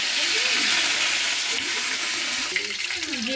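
Curry leaves and cumin crackle in hot oil in a pan for a bottle gourd dish, a dense, loud, steady sizzle with a voice speaking faintly underneath.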